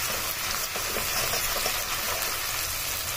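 Tomato, ginger and green chili paste sizzles hard in a pan, a steady dense crackling fry that stays close and loud throughout with no voices.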